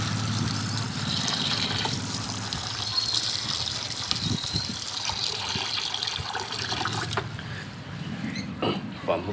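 Tap water runs steadily into a plate while raw chicken is washed for a Sunday special dish in a home kitchen, a continuous close gushing hiss with occasional clinks and handling sounds over it, lasting throughout.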